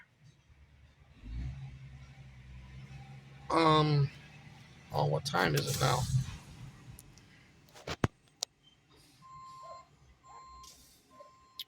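A Sterling truck rumbles nearby with its engine revving in bursts, and faint reversing beeps sound in a Tuesday neighborhood on a hill in McKeesport, Pennsylvania, while people chat over it.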